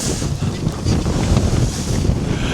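A sailboat, an SJ320 racing yacht, slices through choppy, splashy water at around seven knots, with steady wind roar buffeting the microphone and continuous wave wash and spray close by.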